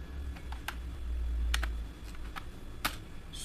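Quiet, sparse keystrokes on a computer keyboard entering a reboot command in a Linux terminal, a handful of separate clicks with short pauses between them over a low room hum.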